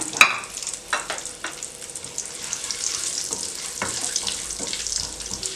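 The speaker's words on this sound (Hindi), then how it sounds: "राई और मेथी डालना भी डाल दें, सौंफ भी डाल दें। इसमें 10 सेकंड के लिए इसको फ्राई करें।" Mustard seeds, fenugreek and fennel fry in hot oil with a steady sizzle, while a sharp clatter opens the clip and a few soft stirring knocks sound close by.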